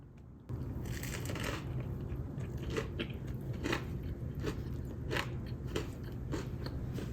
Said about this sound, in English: the rule number 1 for eating any sandwich is you have to give it a squeeze and then eat